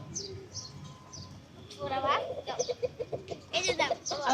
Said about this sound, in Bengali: আমাদের মুরগিকে আঙ্গুর খাওয়াই নাও।